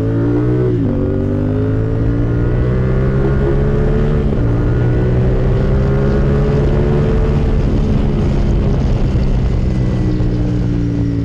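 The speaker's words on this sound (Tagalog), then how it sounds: "Let's start with the wind noise first" Loud, steady wind roar inside a KYT NZ Race full carbon helmet while riding a CF Moto 450 SR, with droning engine tones underneath that shift in pitch as the bike changes gear and speeds up.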